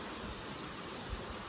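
Strong rushing water, dense and steady, with a constant broadband roar close by and no pauses.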